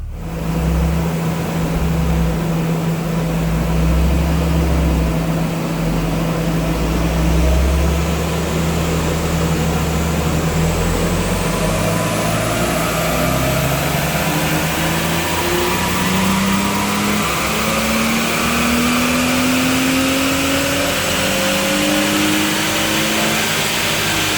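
A BMW Z4 engine runs hard on a rolling road dyno, a loud, continuous close-up drone whose pitch climbs steadily through the revs, with no speech over it.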